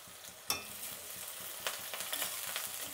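Chopped onions and curry leaves fry in hot oil with popped mustard seeds for dal, giving a quiet, steady sizzle broken by a few sharp stirring scrapes against the pan.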